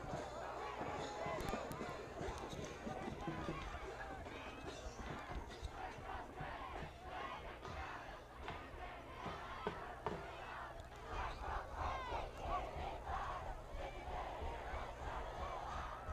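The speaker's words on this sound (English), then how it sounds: "The rowdy crowd getting rowdy right now." A rowdy crowd at a high school varsity football playoff game between Pueblo County and Frederick keeps up sustained shouting and cheering, dense and continuous, with voices mixed throughout.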